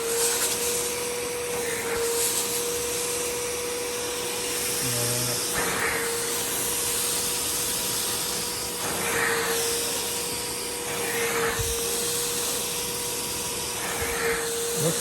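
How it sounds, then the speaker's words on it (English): A Bissell SpotClean Pro sprays cleaning solution and sucks it back up from carpet, its steady motor whine joined by repeated bursts of hissing suction as the nozzle passes over the spot. "spray the area, and then you can just suck it up."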